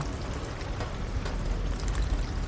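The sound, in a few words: rain effects in a video game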